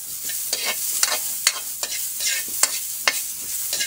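Onion added to browned garlic sautéing in a pan for chicken tinola, a constant sizzle broken by sharp rhythmic scrapes of a spatula stirring about twice a second, close up and without voices.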